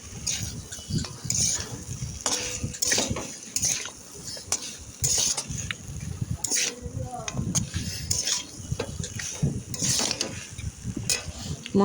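Fish bones, potato, onion, chili and fried onion being stirred together in a pan, with steady scraping and clinking of a utensil against metal, a faint sizzle underneath, close and continuous with no talking.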